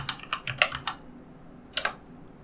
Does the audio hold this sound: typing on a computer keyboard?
yes